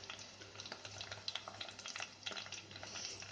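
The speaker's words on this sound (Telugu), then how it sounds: "ఉల్లిపాయ పచ్చిమిరపకాయ వేగిపోయిందండి." Onion, green chilies and curry leaves frying in oil for sambar, a soft continuous sizzle with light crackles and occasional stirring scrapes, fairly quiet and steady throughout with no talking.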